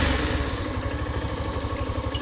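A Hero Xtreme 160R motorcycle engine idles close by in a steady, throbbing, even rhythm, alone and unchanging throughout.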